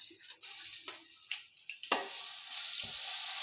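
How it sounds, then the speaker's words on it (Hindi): Oil crackles and sizzles as garlic ginger paste hits the hot pan for biryani, a steady frying hiss building after a few clinks and stirring noises. "अब मैं इसमें लहसुन अदरक का पेस्ट डाल दूंगी।"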